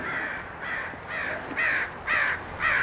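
Crows caw repeatedly as they take off, a series of five or six harsh calls in an uneven rhythm that grow louder toward the end, with no talk over them.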